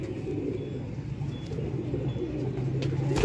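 Several old Vaishi pigeons coo together nearby in a continuous low, throaty murmur, with one brief higher note standing out now and then.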